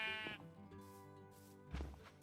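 Sheep in Minecraft bleat close by, two distinct wavering calls separated by a pause, over quiet game ambience.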